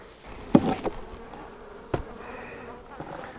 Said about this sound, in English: Quite a few bees in there still.